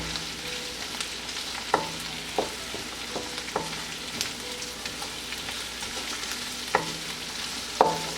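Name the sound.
sautéing and stirring vegetables in a pan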